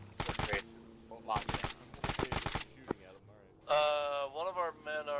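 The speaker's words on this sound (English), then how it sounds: "I was giving him some more warning shots." Warning shots in Arma 3 crack out in several rapid bursts of loud automatic gunfire, separated by short pauses, followed by a bleating, tonal voice-like sound at the end.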